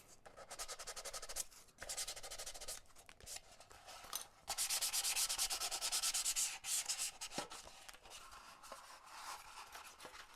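Steady sanding of a model airplane cowl with rhythmic back-and-forth rasping strokes, close up, briefly pausing between passes, then growing louder and denser.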